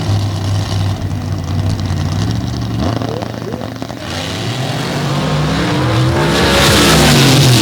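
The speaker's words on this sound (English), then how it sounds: "It's a whole different energy when two super quick vehicles come to the staging area." Drag racing cars roar at a racing finals event, a loud continuous engine drone with rising revs and shifting pitch, under an announcer's commentary.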